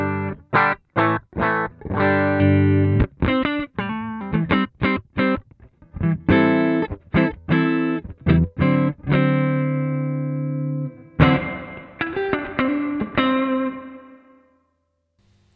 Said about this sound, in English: So this is the Roland Jazz Chorus.